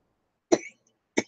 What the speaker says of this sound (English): hope I don't cough too much